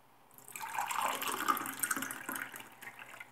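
Water runs from a tap into a bowl while being added to bread dough, a steady splashing stream that swells within a second and trickles on at moderate loudness with no voices.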